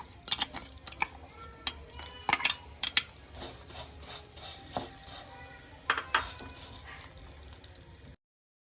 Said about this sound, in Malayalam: ഈ നെയ്യിലോട്ട് നമ്മൾ എടുത്ത് വെച്ചിരിക്കുന്ന സേമിയിട്ട് നന്നായിട്ട് വറുത്തെടുക്കാം